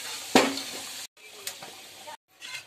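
Potatoes half-frying in hot oil, a close crackling sizzle with a sharp burst near the start and softer scraping after, cut by two brief silent gaps.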